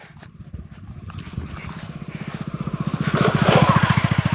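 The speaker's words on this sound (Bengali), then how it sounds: "আগে একটা বাইকওয়ালা আসতেছে" A motorcycle approaches on a rural road beside rice fields. Its engine is a rapid, rhythmic thumping putter that grows steadily louder as it nears.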